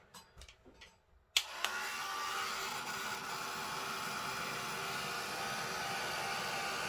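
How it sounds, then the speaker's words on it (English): A craft heat gun used for embossing on a pink ink watercolour bookmark switches on with a click and then blows a steady, loud, broadband whooshing airflow, preceded by a few soft handling knocks. "heat gun. I call it my hairdryer."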